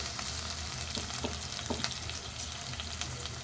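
Paste of green chilli, ginger and garlic fries in a pan for chicken drumstick curry, a quiet continuous sizzle with faint clinks and scrapes, no voices.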